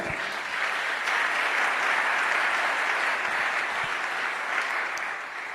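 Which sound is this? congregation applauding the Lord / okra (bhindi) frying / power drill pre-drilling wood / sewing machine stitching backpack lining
congregation applauding the Lord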